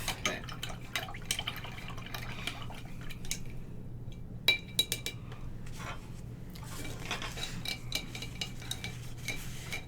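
Black acrylic paint being rinsed from a brush in a water cup, with faint drips, swishes and light clinks against the container, scattered and quiet throughout with a sharper tap midway.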